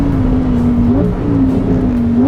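Lamborghini Huracan Sterrato engine revving loudly up close, a droning engine note that rises, dips, then climbs again over about two seconds.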